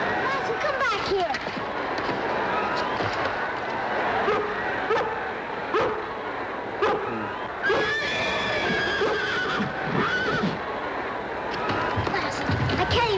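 A horse neighs and whinnies repeatedly at a rodeo, loud and close, with hoof clatter and people talking over it throughout.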